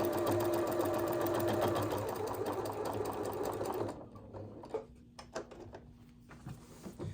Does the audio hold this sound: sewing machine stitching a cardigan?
yes